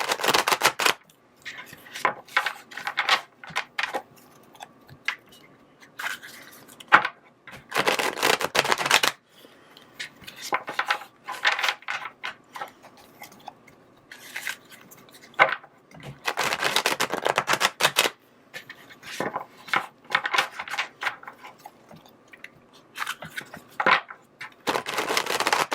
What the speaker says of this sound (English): I think I have to do one more shuffle.